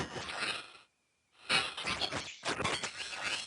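Ultrasound recording played back at the wrong sample rate, giving a harsh, crackling distorted noise in three loud bursts separated by brief silent gaps, with no voices.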